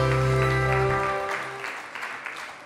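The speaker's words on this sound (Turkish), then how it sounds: "Alkışlarla." A studio audience at a Turkish daytime television show applauds over a brief musical sting, the clapping continuing as a steady wash before trailing off.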